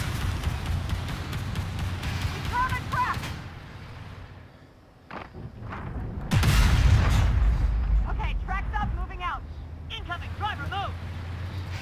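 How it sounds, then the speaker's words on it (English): Artillery shells whistling in and bursting in a military video game, heavy booms and rumbling impacts landing around the player amid battlefield noise, with someone talking over the explosions. "Artillery's falling."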